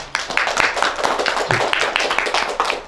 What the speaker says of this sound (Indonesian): tepuk tangan untuk tim kontra